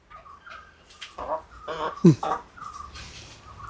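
Chickens in a home coop cluck and squawk in short bursts nearby, with a person talking over them.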